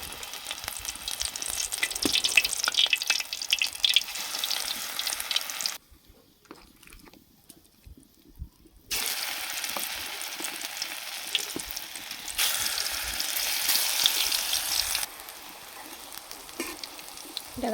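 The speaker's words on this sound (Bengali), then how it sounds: "এখানে একটি কড়াইয়ের মধ্যে আমি তেল গরম করতে দিয়েছিলাম" Malabar spinach fritter batter frying in hot oil in a wok, a steady close sizzle with stirring scrapes, dropping out briefly midway before resuming.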